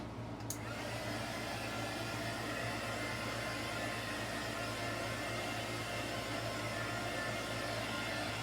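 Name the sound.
heat gun blowing on spin art paint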